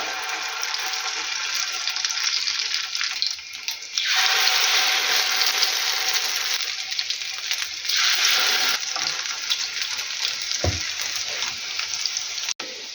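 Potato pancakes made with chicken mince sizzle in a frying pan, a steady close hiss of frying oil that swells and eases, with a sharp clink of a utensil near the end.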